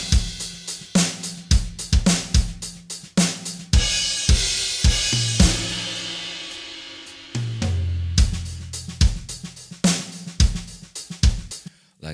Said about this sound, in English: I've programmed some drums